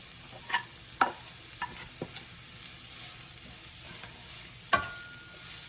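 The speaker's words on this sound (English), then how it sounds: "I'm gonna now add the quinoa." Quinoa tipped into a hot pan of a lemon-seasoned mix and stirred, giving a faint, steady sizzle broken by a few sharp scrapes and taps of the utensil against the pan.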